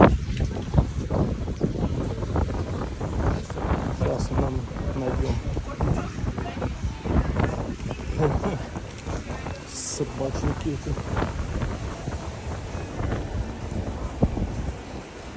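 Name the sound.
strong wind by the sea blowing into the microphone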